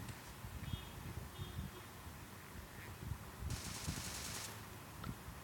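Gunfire from the mobile battle royale game PUBG Mobile, heard as a steady low rattle of repeated shots across the clip with a brighter burst near the middle, fairly faint and busy, with no talk over it.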